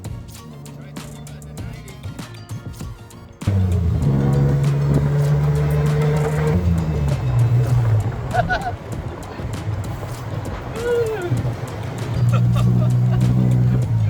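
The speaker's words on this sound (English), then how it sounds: "I'm getting out of Chinatown on a bullet tuk-tuk" Bangkok tuk-tuk ride out of Chinatown, a steady close engine drone with rising and falling revs and road rumble, loud throughout with wind noise, and short voices or shouts heard over the ride.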